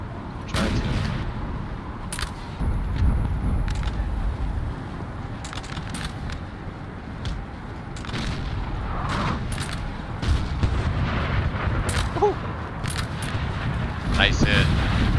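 Cannon and gunfire boom repeatedly in a chaotic Napoleon: Total War 3 4v4 battle, scattered blasts over a rumbling background, with voices talking now and then.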